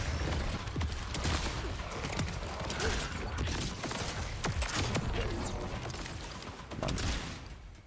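Rapid gunfire and shooting effects from the video game The First Descendant crackle in dense bursts throughout, loud and busy, layered with clattering mechanical action sounds.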